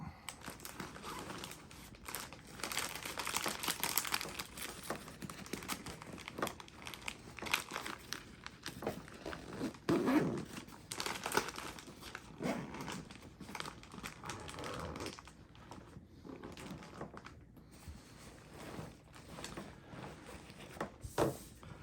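Plastic bags crinkle and rustle continuously while a backpack is packed for a morning hike, close and fairly loud, with bursts of crumpling and handling noise throughout.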